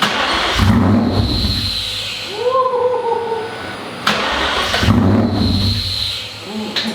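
An 800hp Terminator Cobra V8 coughs to life on its first start. It runs unevenly in rough bursts, with brief surges and dips and a few sharp clanks, heard close and fairly loud.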